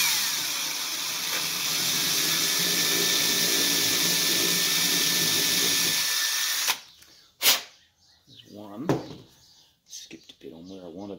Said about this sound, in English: So I want to give it a very tiny pre-drill.